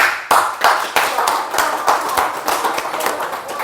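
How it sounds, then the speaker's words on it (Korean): A church congregation claps together during a Sunday sermon, a burst of dense applause that starts sharply and carries on steadily, fairly close and loud. "박수 한번 해줄까요?"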